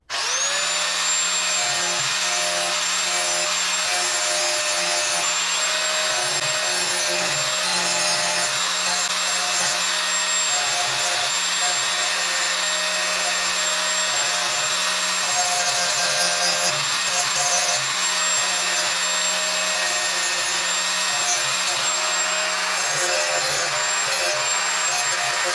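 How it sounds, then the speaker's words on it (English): A bench grinder sharpens a John Deere S140 riding mower blade with a steady, loud, high-pitched whine. The grinding rasp runs continuously the whole time with no talking. "I'm going to use a grinder."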